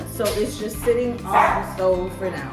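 A dog barks a few times in a home kitchen while a lasagna's meat sauce cooks on the stove, the yips short and mid-loud, with a person talking over them.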